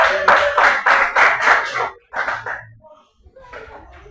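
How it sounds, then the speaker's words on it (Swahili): A church congregation claps and cheers for Jesus, a burst of loud, rhythmic clapping mixed with shouting and ululation that breaks off, then resumes faintly with scattered voices. "Pigia Yesu shangwe na vigelegele."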